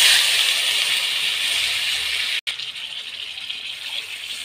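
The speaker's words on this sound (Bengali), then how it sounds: "এই যে আলু পটল সব একসাথে ভালোভাবে কষা হয়ে গেছে, জল দিয়ে দেবো। এই যে জল দিয়ে দিচ্ছি।" Water pours into a pan of sautéed potatoes and pointed gourd for a prawn curry, a steady broadband gush and hiss close up, briefly cut off midway before resuming slightly weaker.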